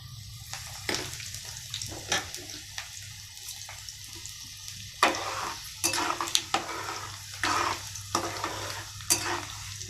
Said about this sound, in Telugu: కొద్దిసేపు ఫ్రై చేసుకోవాలి. ఇందులోనే ఎండుమిర్చి వేయాలి.